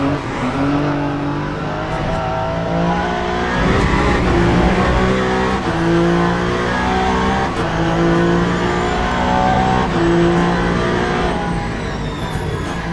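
A Proton Porsche race car in the Le Mans Ultimate racing game pulls out of the pits during an 8-hour Bahrain race, its engine droning loud and steady with rising and falling revs throughout.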